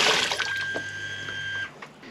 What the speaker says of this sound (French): pour faire fonctionner ce robinet, nous avons un interrupteur